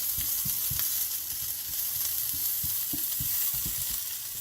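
Onions sautéing in a hot pan for a Ramadan chicken kachori filling, a steady close sizzle with repeated low scraping stirs throughout, no voices.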